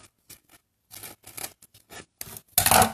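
Scissors cutting burlap-backed linocut printmaking material, a run of short, close, rough snipping and rasping bursts in an irregular rhythm, ending in a louder sustained crunch.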